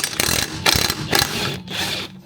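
A ratchet wrench with a 19 mm socket clicks in quick bursts on a lug nut of a 1964 Rambler, close and fairly loud, with short pauses between the runs of clicks.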